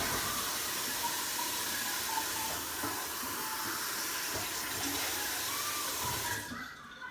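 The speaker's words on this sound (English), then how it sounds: "It just says ice cold water. I guess we just fill it up." Ice cold water running steadily into a jar, a continuous rushing hiss from a tap that holds even for about six seconds and then cuts off, close by with no talking.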